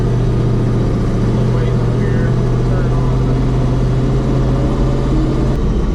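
The engine of a turbocharged 1500hp Chevrolet S10 drones loudly and steadily, heard from inside the cab, with a faint whistle of turbos spooling rising over it and voices murmuring in the background.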